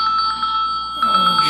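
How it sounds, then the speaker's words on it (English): A phone rings with a steady repeating electronic trill, fairly close, while people talk over and around it. "It's ringing right there on your phone."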